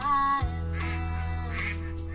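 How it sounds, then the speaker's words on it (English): Ducks quack in a short burst of nasal calls on a boat scene from a TV drama, heard near and fairly loud over a sustained musical tone. "Oh god, the ducks!"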